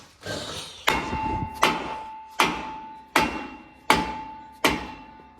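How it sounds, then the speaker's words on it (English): A dead blow hammer strikes a rusted brake rotor on a 2015-2020 Ford F150 4WD, hitting hard six times at roughly even intervals. Each blow is a close metallic clank with a short ringing tone that fades before the next hit. "hit them with the hammer as hard as you can."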